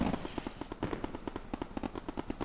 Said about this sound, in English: We also have the 4th of July fireworks going right now.